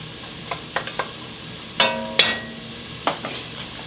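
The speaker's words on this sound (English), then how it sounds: "We're going to saute it for about 5 minutes." Vegetables for a vegan lentil soup being sautéed in a pot, heard as a few sharp spoon clinks and scrapes against the metal over a faint low sizzle, close and sparse with no talking.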